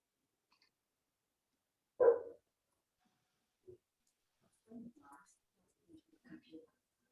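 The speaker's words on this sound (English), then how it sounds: "I think the dog wants to go out." A dog gives a single loud, close bark during an indoor club meeting, followed by scattered quiet voices and soft murmuring.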